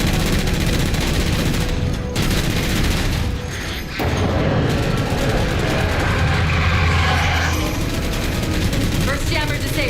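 Sustained gunfire in Halo 4 as jammers are shot down: dense, loud bursts of automatic fire with booming impacts, continuing almost without pause and briefly cutting out once midway.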